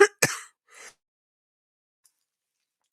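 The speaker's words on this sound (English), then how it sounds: "you guys have to hear me cough" A person's cough or throat clearing during a wrestling-themed live stream: two or three short, sharp bursts at the start, close to the mic, followed by silence.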